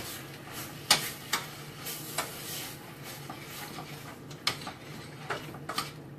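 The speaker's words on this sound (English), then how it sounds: "So let's give it a good stir." A spoon stirs a thick, boiled-down beef stew in a pot, giving scattered sharp clinks and scrapes against the pot over a low, steady bubbling simmer, with no talk.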